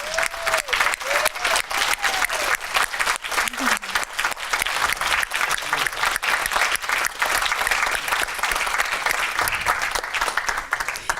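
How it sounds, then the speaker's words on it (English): A large audience at a leadership forum applauds loudly and continuously for the whole stretch, dense overlapping claps with a few faint cheers mixed in. "I'd just like to give them another huge round of applause."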